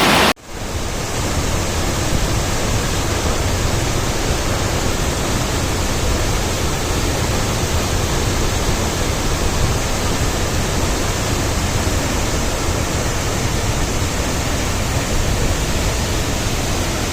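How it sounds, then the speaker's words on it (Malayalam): Athirappilly waterfall in the forest sends down foaming, rushing water in a loud, dense and unbroken roar that holds steady from start to finish. "പതഞ്ഞ് ചാടുന്ന വെള്ളം അതിരപ്പള്ളി വെള്ളച്ചാട്ടം"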